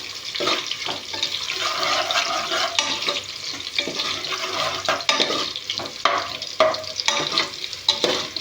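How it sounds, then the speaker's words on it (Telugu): Onions fry for chicken biryani, a busy crackling sizzle with frequent stirring scrapes and clicks of a spoon in the pan, fairly close and continuous, with no talking. "ఉల్లిగడ్డలు అనేవి దూరగా వేగాలి."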